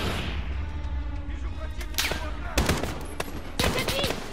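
Gunfire in Call of Duty: Modern Warfare, sharp broadband shots and bursts at a steady combat level, with a few louder volleys near the end, under faint game noise.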